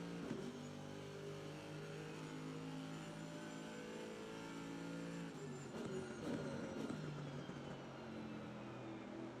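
A BMW race car in Assetto Corsa Competizione at the Kyalami circuit drones with a steady, even engine note, holding a sustained tone with a brief shift partway through and a faint background hum.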